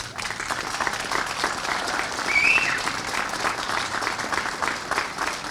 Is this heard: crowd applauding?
yes